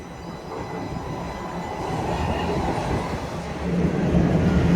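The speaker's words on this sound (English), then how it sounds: "Here comes the subway." A Toronto TTC subway train rolls into a station, its steady rumble and rail noise building louder as it draws near, with no voices over it.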